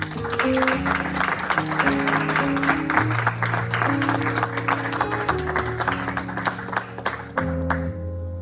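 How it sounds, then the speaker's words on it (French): A church congregation applauds in praise, a steady dense clapping that runs throughout under sustained organ or keyboard chords. "Est-ce qu'on peut acclamer la parole de Dieu?"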